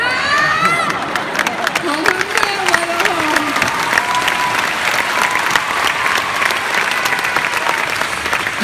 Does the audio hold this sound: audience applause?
yes